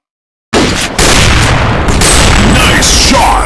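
Gunfire in a zombie shooting video game: after half a second of silence, a heavy burst of blasts hits and then sustains as a loud, saturated roar of continuous shooting and booms, with hints of voice mixed in.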